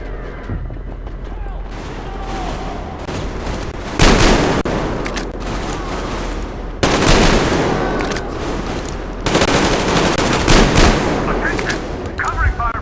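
Sustained video game gunfire and machine gun bursts for covering fire, loud and dense, with louder volleys around four, seven and nine seconds, mixed with game speech.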